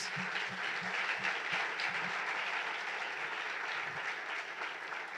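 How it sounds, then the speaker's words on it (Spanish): A church congregation gives a steady round of applause, many hands clapping together in a sustained, even roar with a few heavier claps near the front. "Vamos a darle una ofrenda de palmas a nuestro Señor Jesús."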